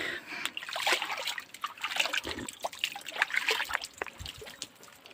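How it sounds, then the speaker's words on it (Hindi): Water trickling from a village spring, a quiet irregular dribble and splash running steadily throughout, nearby and alone. "ये पानी है।"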